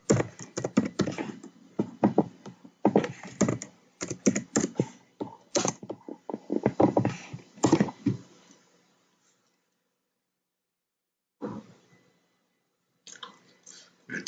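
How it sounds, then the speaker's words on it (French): Rapid clicking keystrokes on a computer keyboard, bursts of typing in quick irregular rhythm, close and clear, then a pause of silence followed by a few isolated key taps. "nous allons taper la commande wget et faire un clic droit"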